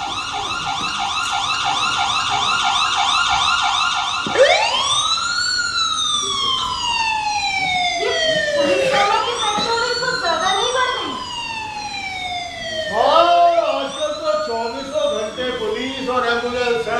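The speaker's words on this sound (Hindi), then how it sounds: "सड़कें सुनी और खाली है, भी सायरन बजाए सड़क पर चलती जा रही है" An ambulance siren wails, sweeping up and down repeatedly, loud and close, over steady road traffic noise, rising sharply again several times.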